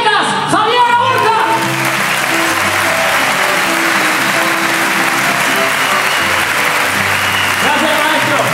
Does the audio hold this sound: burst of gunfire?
no